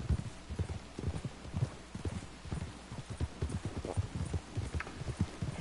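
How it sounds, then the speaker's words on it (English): Hooves clip-clop in a steady, quick rhythm as a horse trots along a hard surface in Red Dead Online, close and clear with no talking. "I'm riding this horse right now"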